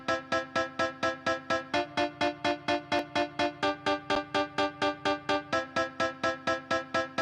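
A staccato piano patch from Omnisphere plays short, crisp chords in a fast, even rhythm. The chords repeat steadily for several seconds and stand alone with no talking.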